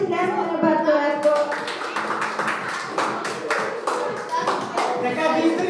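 Children clapping their hands at a fourth birthday party, a loud, steady run of rhythmic claps with voices chattering and calling out over them throughout.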